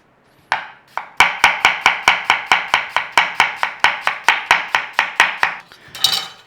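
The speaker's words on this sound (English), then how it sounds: "Onion, thin slices of onion." A knife chops steadily through an onion on a board, thin slices falling in a quick, even rhythm of about twenty crisp, close strikes with no talking.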